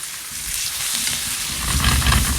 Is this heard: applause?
no